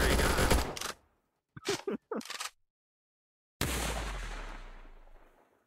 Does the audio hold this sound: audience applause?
no